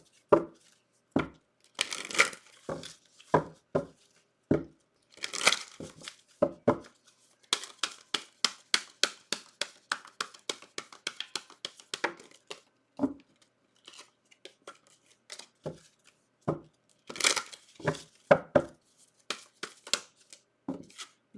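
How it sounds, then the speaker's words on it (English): Tarot cards shuffled by hand in a long run of crisp, snapping riffles and slaps, sometimes in quick bursts and sometimes spaced out, close and fairly loud with no talking. "Let's shuffle a couple more times."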